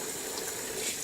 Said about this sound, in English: now I'm swishing, and the water is starting to get really dirty